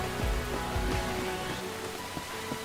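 Rain falls steadily in the Enshrouded video game, a dense hiss of drops with a few low thumps near the start, constant and moderately loud with no talking.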